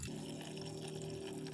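A cup of water pours into a betta fish tank, a faint, continuous watery trickle and splash that carries on evenly throughout.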